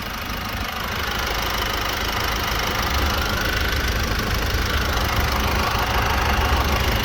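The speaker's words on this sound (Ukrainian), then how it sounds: "По двигуну можете почути, що звук ланцюга не чути" A 1.6-litre, 136 hp Opel Astra K Sports Tourer with an automatic gearbox idles in a steady, even hum with no timing-chain rattle, heard up close and alone for several seconds.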